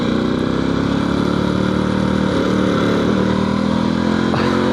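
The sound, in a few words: Halcyon 450 motorcycle engine cutting out from fuel starvation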